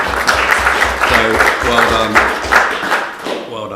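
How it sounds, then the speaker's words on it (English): Members at a county council cabinet meeting clap together for a few seconds, a small group with a rhythmic, fairly close clapping pattern that stops abruptly at the end. "So that's a round of applause."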